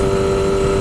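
A motorcycle engine holds a steady, loud mid-pitched drone with a strong tonal hum during a clutchless upshift, brief and continuous with no talk over it.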